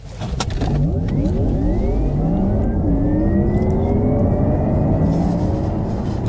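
A Porsche Taycan electric car accelerates hard, a continuous loud rising drivetrain whine and rumble building steadily for several seconds with road noise, no one speaking.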